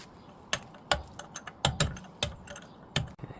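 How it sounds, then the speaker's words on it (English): A chisel scrapes rust flakes off a seized BMW axle nut, producing sharp, irregular metallic taps and clicks spaced at short intervals, close and fairly quiet with no talking. "I'm just going to gently chisel off some of the bigger flakes of rust"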